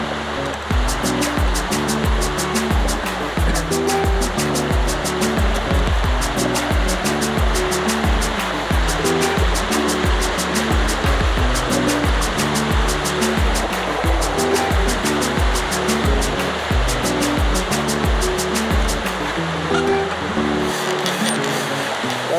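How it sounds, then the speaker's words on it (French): Steady rushing and splashing of a mountain stream close by, with rhythmic footfalls in the water as someone wades through it, continuous and fairly loud. "On passe dans le ruisseau."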